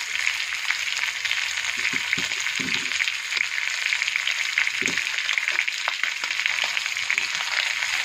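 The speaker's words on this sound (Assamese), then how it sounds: "এনেকৈ অলপ দেৰি ভাজিম।" Chicken fries with spices in a pan for a dry fry, a continuous bright hiss of sizzling oil that stays even and close, with a few low knocks early on.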